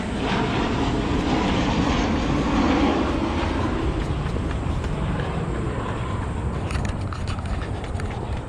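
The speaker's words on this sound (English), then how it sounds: "Another plane." An airplane passes overhead at the Flower Exposition theme park in Houshayu, Beijing, a steady, loud, broadband roar that holds for the whole stretch with no talking.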